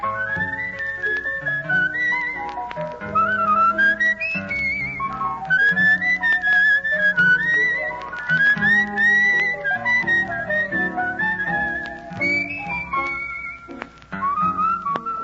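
A tune whistled on an old-time radio Western ranch program, a bright, melodic whistle carrying a lively melody over steady instrumental backing, loud and continuous throughout.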